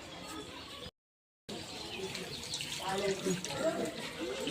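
Steady running water trickles and splashes nearby, with people talking over it and a brief silent gap early on.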